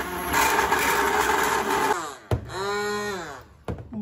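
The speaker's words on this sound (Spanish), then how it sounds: "Ya las pechugas están bien deshuesadas, ahora las voy a licuar." A kitchen blender pureeing deboned chicken breasts into a smooth cream for homemade dog food, motor whirring steadily, then pausing and restarting with a rising then falling pitch, briefly stopping again near the end.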